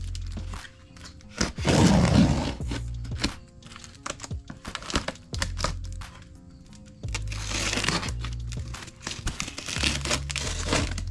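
Plastic and cardboard packaging of a Vatrer 48V battery being cut open and unwrapped, with loud crinkling and crumpling bursts, scraping handling noises and intermittent low thumps, close by.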